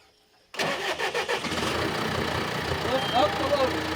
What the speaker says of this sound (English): let's go ahead and start the tractor back up.